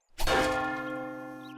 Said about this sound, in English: There's a new feature in 7 Days to Die that I almost completely forgotten about, and it's this bell here. If I hit it now,